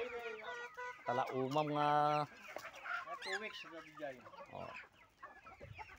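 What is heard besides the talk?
silkie chickens clucking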